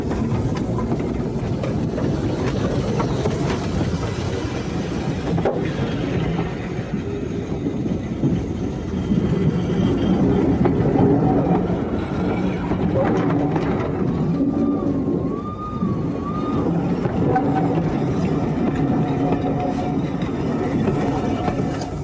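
Steam locomotive The King pulls away from the terminus at a Foxfield Railway gala, a continuous rumbling chug with a brief whistle partway through, at moderate distance, with some background voices.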